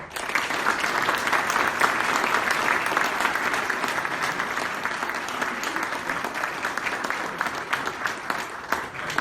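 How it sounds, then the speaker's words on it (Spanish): Sustained audience applause welcoming a speaker at a lecture on liberalism by A. Benegas Lynch, a dense, steady wash of clapping that stays loud and even for the whole stretch. "lo recibimos con un fuerte aplauso"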